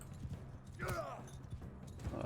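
A horse ridden in the video game Mount and Blade 2: Bannerlord makes faint, soft, steady hoofbeats, with a brief higher sweeping sound partway through. The whole clip is quiet.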